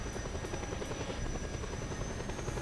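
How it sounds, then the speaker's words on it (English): Helicopter in the video game Just Cause 2, a steady loud rotor drone with rhythmic blade thumping throughout, alone without talk. "I just got a helicopter."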